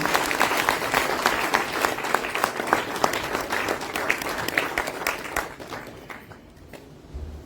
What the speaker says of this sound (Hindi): सो जोरदार ताली के साथ स्वागत कीजिए कमल सर का।